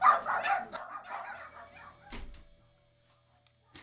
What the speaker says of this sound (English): Dogs are eager to see Lenny, not me.